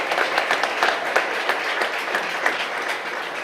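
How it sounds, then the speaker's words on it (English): Applause ripples through the room at a school district board meeting, a moderate, steady patter of many hands clapping with no voices over it. "I think that deserves some applause"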